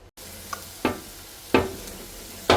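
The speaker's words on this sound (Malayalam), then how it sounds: "ഈ ബീൻസൊക്കെ നന്നായി ഇളക്കിയെടുക്കുക" Beans and potatoes stir-fried in oil for a mixed vegetable saute, with a steady soft sizzle broken by three sharp scraping strokes of stirring spaced about a second apart, close and moderately loud.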